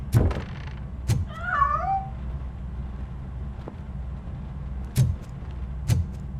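A cat in the video game RoboCop: Rogue City lets out a single wavering meow amid sparse game ambience, with a few sharp knocks and thumps scattered before and after.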